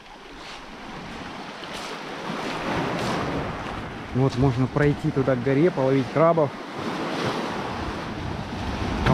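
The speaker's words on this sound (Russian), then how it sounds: "Ну, волны сегодня такие приличные здесь." Sea waves wash onto a shore beside a mountain, with a steady roar of surf and wind buffeting the microphone, while someone talks over the water in the middle of the clip.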